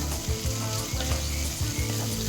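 Cumin powder, meat masala and a little ground black pepper sautéed in a pan, a steady dense sizzle with soft scraping of a spatula repeating every second or so, close and continuous without voices.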